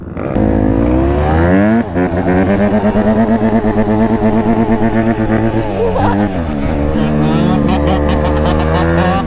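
A two-stroke dirt bike engine revs loud and close, rising and falling in repeated throttle blips with a brief dip partway through.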